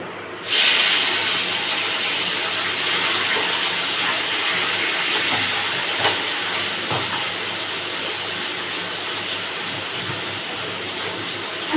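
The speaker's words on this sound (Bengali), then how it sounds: "এবার এই ছোট মাছগুলো ভেজে নেবো" Small puti fish fry in hot oil with a steady, dense sizzling hiss, close and continuous, with a few faint clinks.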